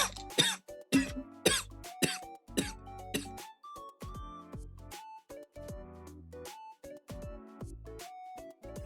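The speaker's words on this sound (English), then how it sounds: "I read this sentence and it sent me into a coughing fit." A coughing fit, several harsh close coughs and throat clearing at the start, then a steady stream of short electronic tones and clicks continues alone.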